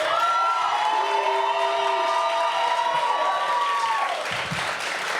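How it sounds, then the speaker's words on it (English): A crowd at a spoken-word poetry event in Philly applauds and cheers loudly and steadily for a poet taking the stage, with high whoops and shouted voices riding over the dense clapping. "Please clap it up for the phenomenal Duke the Roots"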